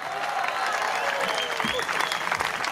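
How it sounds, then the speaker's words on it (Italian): Concert audience at a tribute show claps in a dense, sustained burst, with a voice talking over the applause. "Vorrei un grande applauso per"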